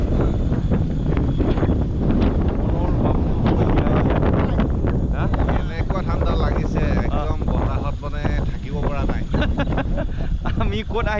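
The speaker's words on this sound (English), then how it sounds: "Wow, wow, what a cool wind," Strong wind buffeting a microphone outdoors, a loud continuous rumbling roar with gusty swells, while someone talks over it.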